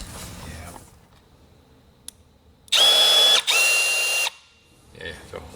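A rivet tool fastens carbon fiber winglets onto a BMW M2 CS in two loud, close whirring bursts of about a second each, while people talk quietly before and after.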